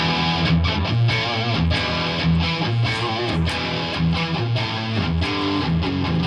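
Distorted electric guitar played through a high-gain amp at a Gibson event, chugging heavy metal-style riffs; dense, loud and continuous with rhythmic palm-muted attacks, no talking.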